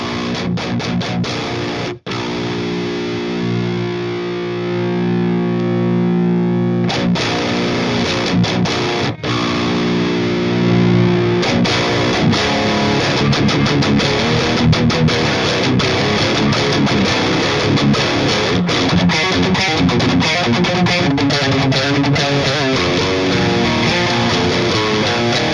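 Heavily distorted electric guitar played through channel 2 of a Ceriatone Leviathan amp, loud and continuous, with sustained chords early on, then chugging, rhythmic palm-muted riffs with brief pauses between phrases.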